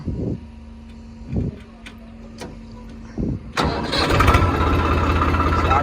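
A Swaraj 855 tractor engine cranks a few times in short bursts, then catches and settles into a loud, steady diesel idle close by.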